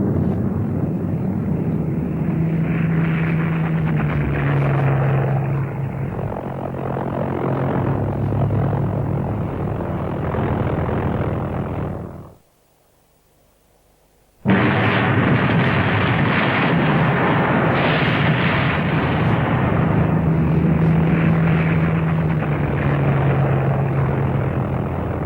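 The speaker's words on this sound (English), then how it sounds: "the fighters tried to shoot down the missiles over thinly populated countryside" WWII fighter planes chase V-1 flying bombs over thinly populated countryside, with loud propeller and engine drones passing close, a brief silent break, then the droning returns.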